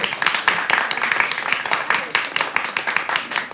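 Audience at an apprenticeship graduation clapping, a dense burst of many hands applauding together, loud and close, with faint voices mixed in.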